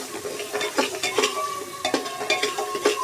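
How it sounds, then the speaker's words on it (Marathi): Masala spices for Surti undhiyu sauté in a pan with a bright crackling sizzle, punctuated by frequent quick stirring scrapes and light utensil taps, close and steady, with no voices. "जे छान मसाला परतून झाला"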